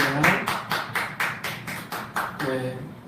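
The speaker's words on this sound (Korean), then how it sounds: "하나님께 영광의 박수 올려드리겠습니다." A church congregation claps in worship, a run of sharp, evenly spaced claps about twice per second sounding fairly close and moderately loud, with a voice speaking briefly near the end.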